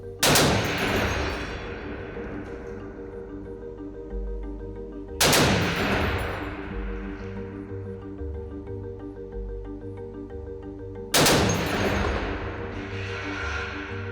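Machine gun on an aircraft-related range firing short bursts at targets: three loud, sharp bursts spaced several seconds apart, each followed by a long rumbling decay and steady background hum.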